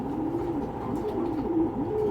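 A grizzle pigeon cooing steadily, repeated swooping coos running one into the next, close and fairly loud over a dense low hum.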